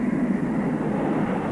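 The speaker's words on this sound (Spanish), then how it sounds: "Los Tornados siguieron volando y atacando una gran diversidad de objetivos." Tornado combat jets flying over a Gulf War setting, a steady broad roar of jet engines holding at constant loudness throughout, with no voices.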